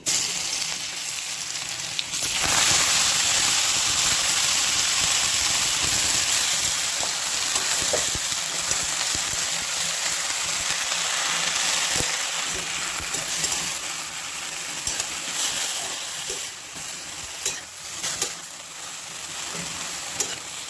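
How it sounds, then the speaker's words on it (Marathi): Green chilies are dropped into hot oil for tempering a methi rasa bhaji, setting off a loud burst of sizzling that settles into steady frying crackle with occasional stirring over about twenty seconds. "चला आता आपण भाजीला फोडणी देऊ. मिरची घालूया."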